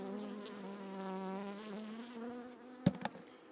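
Small honeybee colony nesting in a bird box, a close, steady droning buzz of many bees, followed by a couple of sharp knocks near the end.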